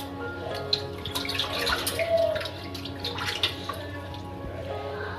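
Fish being rinsed by hand in water for a home-style fish curry, with soft splashing, trickling and dripping, close and fairly quiet, broken by occasional sharper clinks.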